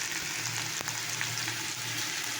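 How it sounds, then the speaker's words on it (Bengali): Sliced onion and green chili sizzle steadily in hot oil, a close, even crackle with a brief stir scrape partway through. "এটা দিলাম তেল যখন আছে, এটাকে পেঁয়াজ কেটে দিলাম, কাঁচা লঙ্কা দিলাম"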